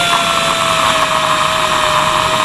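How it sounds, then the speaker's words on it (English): Short drill running steadily on a modified Lancaster bomber panel, drilling out pins; a continuous close whine with a high sustained tone throughout. "we've got a shorter drill"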